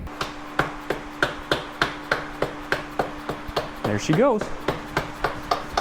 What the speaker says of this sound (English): just give her a little tap-a-roo with the old dead blow